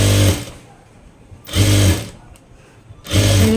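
A sewing machine stitches a blouse side seam in three steady whirring runs, loud and close, with quieter pauses between them.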